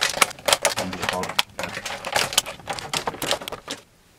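Kitchen scissors snip through a stiff plastic case that holds a torque wrench, giving a quick run of close, crisp cuts and crackles that ends in a pause.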